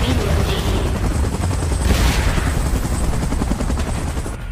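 A helicopter in PUBG Mobile during a Godzilla and Kong vs Mechagodzilla mode, a loud, dense, continuous rotor chop close by, steady throughout.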